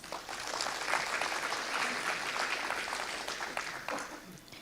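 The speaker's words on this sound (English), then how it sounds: "Please give a round of applause." A forum audience on international tax policy gives a round of applause to thank its supporters, a steady, moderately quiet patter of many hands that tapers off near the end.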